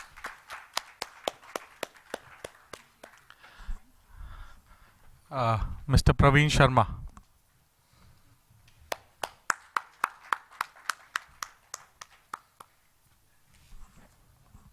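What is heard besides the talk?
audience applause for conference speakers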